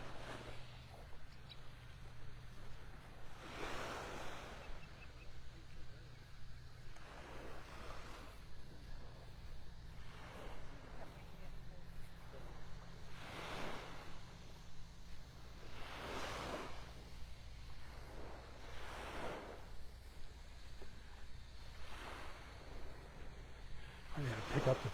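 Surf washes onto a beach in North Naples, Florida at high tide, with soft, rhythmic swells rising and fading every few seconds under light wind noise, with occasional faint voices nearby.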